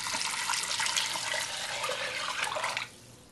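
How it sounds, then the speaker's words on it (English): Six cups of vegetable broth pour into a soup pot as a steady liquid splash and gurgle, close and fairly loud, that stops abruptly near the end. "And then we're going to add 6 cups of vegetable broth."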